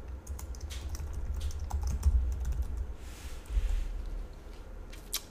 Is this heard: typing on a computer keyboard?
yes